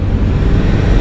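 A Dodge Viper with over 500 horsepower spins its tires on a Berlin street, heard as a loud, close, continuous low engine roar in a very short burst.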